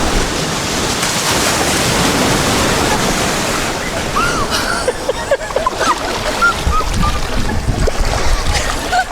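Loud cold Chilean sea surf crashing and rolling close by, with steady wash and splashing, wind noise over the microphone.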